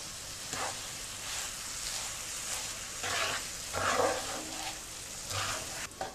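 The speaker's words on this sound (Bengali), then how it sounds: "শ্যামাইটা হালকা করে আবার একটু ভেজে নিলাম" Shemai vermicelli frying with condensed milk on a hot stove plate, a soft steady sizzle with occasional stirring scrapes, moderately quiet and continuous, no talking.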